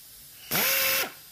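A Blue Pneumatic BP-60c pneumatic rivet nut tool sets an insert in a workpiece with one loud burst of air, a motor-like pitch rising then falling over about half a second, then a short hiss as it releases.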